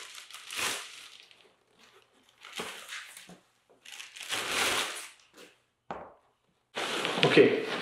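Plastic packaging is pulled off an ENVO D50 or ST50 e-bike during unboxing, with several bursts of close crinkling and rustling separated by quiet gaps, ending in a louder sustained crackle.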